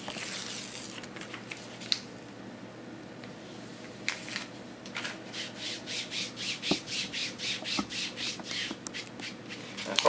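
Kinesio tape rubbed onto skin with rapid back-and-forth strokes, a soft rhythmic rasping that starts in scattered brushes and settles into a steady quick patter, close and fairly quiet.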